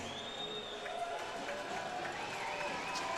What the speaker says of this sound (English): More cheers from the crowd